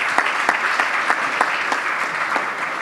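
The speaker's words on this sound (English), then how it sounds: "I think all of you should give yourselves a round of applause right now" An audience at the Diversity Awards Gala gives a loud, sustained round of applause, many hands clapping together in a steady roar with a few sharp individual claps standing out close by.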